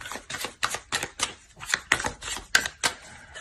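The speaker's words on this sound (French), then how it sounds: "On va rajouter des cartes." Tarot cards are handled and laid out on a surface, giving a quick, close series of about a dozen crisp snaps and slaps in a fairly regular rhythm, with no voices.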